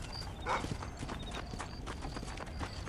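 Horses' hooves clip-clop steadily in the Red Dead Redemption video game, a dense rhythmic trot heard up close over a continuous background of game ambience.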